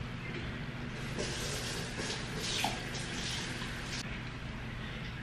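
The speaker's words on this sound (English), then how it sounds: "So I'm just about to put the water in here." Water pours from a tap into a pot of freshly rinsed rice in a home kitchen, a steady close rush that lasts the whole stretch with a slight swell midway and no talk.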